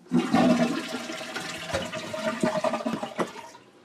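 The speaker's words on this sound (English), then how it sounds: "Guess what works? Let me see if I can do this." A toilet flushes loudly up close at a deer camp, a rushing gurgle of water that swirls and drains away, slowly fading over a few seconds.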